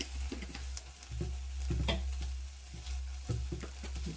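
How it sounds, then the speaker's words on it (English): Onions and basil being stirred in a hot pan, with steady sizzling frying and scraping stir strokes close up, no talking. "I'm stirring it up."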